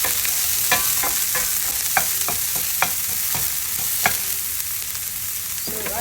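Octopus stew ingredients with ginger are stirred in a sizzling pan, a steady fry hiss broken by a series of sharp utensil scrapes and clicks at irregular intervals.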